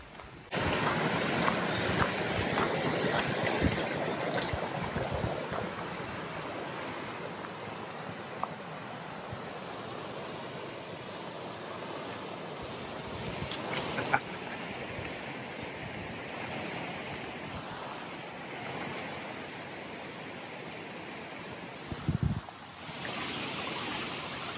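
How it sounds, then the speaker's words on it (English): Rushing water from a river in a forested national park in Okinawa, a steady broadband roar heard close by, mixed with wind buffeting the microphone and a few brief handling bumps, with no speech. "Sounds like a river."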